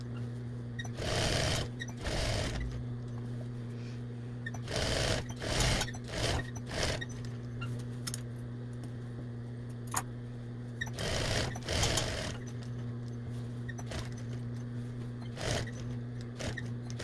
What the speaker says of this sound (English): I'm going to sew down, then turn, sew up, across, then I'm going to go all the way around the pocket